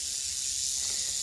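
Rattlesnake in Alabama giving its warning rattle, a steady, continuous buzzing hiss that holds at an even level throughout, close and fairly loud with no talking.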